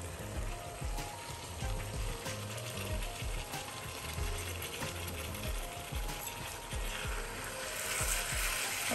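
Minced meat (keema) fries in a pan at home with a steady crackling sizzle and dense rattling spatter throughout, close and continuous.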